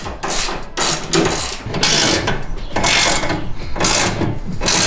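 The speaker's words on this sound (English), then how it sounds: "10mm bolt, tighten those up nicely." Ratchet tightening 10mm bolts on a bed rack for a roof-top tent on a Toyota Tacoma, a dense, continuous mechanical clicking in steady bursts, close and fairly loud.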